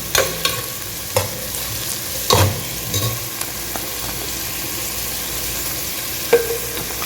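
Ingredients for a bottle gourd mutton gravy sizzle steadily in a pan, with a spoon stirring and scraping in irregular knocks over the constant frying hiss.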